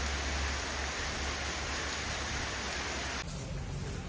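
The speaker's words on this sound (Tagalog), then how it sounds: "It's raining." Steady, dense rain hisses evenly across the whole stretch, then drops abruptly to a softer patter near the end.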